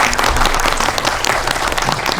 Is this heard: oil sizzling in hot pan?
no